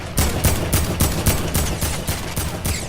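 Gunfire in a video game rings out as a fast, regular series of about ten loud shots in quick succession, evenly spaced and close, with no talking.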